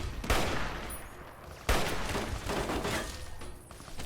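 Two loud gunshots ring out close by in Fallout New Vegas, about a second and a half apart, each a sharp crack trailing into echoing noise against a busy background with no talk.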